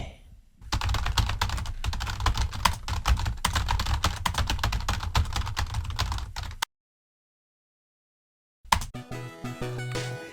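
Rapid, steady typing on a computer keyboard, dense clattering keystrokes for several seconds, then a sudden silence before music starts.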